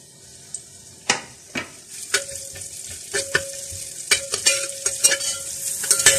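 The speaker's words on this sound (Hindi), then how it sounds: "जो कैरेट हमारे पास है, इस कैरेट को इसके अंदर थोड़ा सा फ्राई कर लेंगे।" Carrots frying in a few tablespoons of oil in a pot, a bright sizzle punctuated by sharp spoon scrapes and knocks against the metal at an irregular pace.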